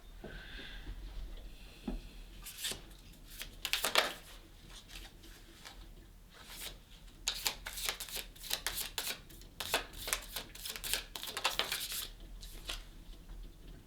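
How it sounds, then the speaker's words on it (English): Tarot cards being shuffled by hand, quiet and close, with irregular bursts of riffling and flicking cards and soft rustles between them, no talking. "I think we're gonna shuffle one more time to get the final card"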